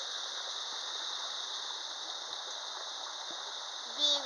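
Rushing river water near Bridalveil Fall in Yosemite, a constant hiss of flowing water heard at steady moderate level, with a brief bump near the end.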